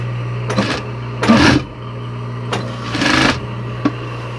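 A sewing machine motor hums steadily while its pedal is pressed in short spurts, giving several brief whirring runs of stitching over a low constant drone, close by with no talk.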